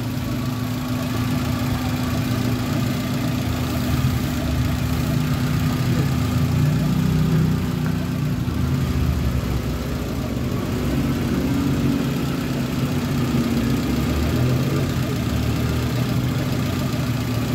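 A flood-damaged car engine idles steadily for the whole stretch, a close, even, continuous hum and rumble with no voices over it.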